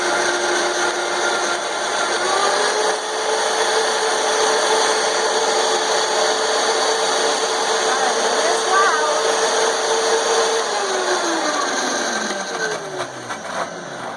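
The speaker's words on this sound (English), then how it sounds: "Vitamix is a very loud machine, but boy does it work" A Vitamix blender grinds a fruit puree for cranberry chutney with a loud, steady high-pitched whir. The motor spins down near the end.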